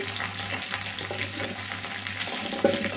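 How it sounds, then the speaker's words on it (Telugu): Drumstick pieces, carrot and beans frying in a pan for sambar give a steady, close, loud sizzle with a faint clink near the end, no voices. "మునక్కాయ ముక్కలండి. ఇవన్నీ వేసేసుకుందాము."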